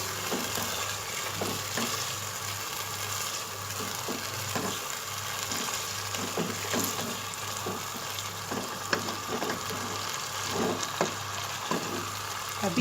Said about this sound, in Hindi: अब हम इसको भूनते जा रहे हैं पसंदों को